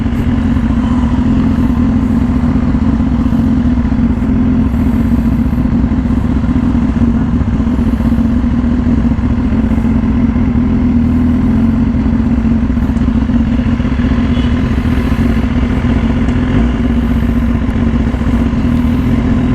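A 2018 BMW S1000RR sport bike fitted with an Austin Racing exhaust, heard while riding as a loud, steady engine drone with constant wind rush and no let-up.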